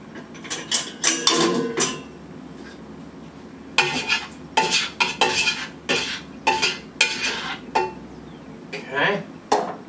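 A spoon stirs and loosens cooked pasta in a pot for a pesto chicken meal, giving bursts of close scraping and clattering metal-on-pan knocks, grouped in uneven rhythmic runs with brief pauses.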